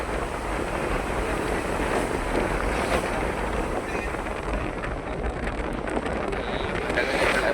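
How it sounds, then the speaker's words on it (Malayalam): Steady wind rushes and buffets against the microphone throughout, a constant roaring hiss with no pauses. "നല്ല കാലാവസ്ഥയും ചൂടുണ്ടായിട്ട് പോലും കാറ്റടിക്കുന്നു"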